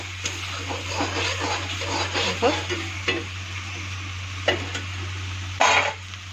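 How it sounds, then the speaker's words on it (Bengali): Spice paste for an egg curry fries in oil while being stirred, giving a steady close sizzle punctuated by repeated scraping and clinking strokes of the spoon, over a constant low hum. "মশলাটা ভাজা ভাজা হয়ে যাচ্ছে, অল্প অল্প তেল ছাড়ছে, আর একটু তেল ছাড়বে।"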